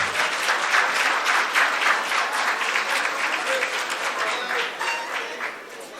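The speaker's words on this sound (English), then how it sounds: "Please, round of applause." Sustained applause from an audience at a bar association branch lecture and dinner, dense steady clapping from many hands filling the room at even loudness throughout, with a faint voice under it.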